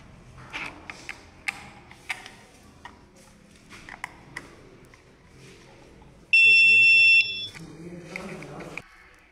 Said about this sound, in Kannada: ಇದು ಬಜರ್ ಸೌಂಡ್ ಶಬ್ದ ಮಾಡುತ್ತಿದೆ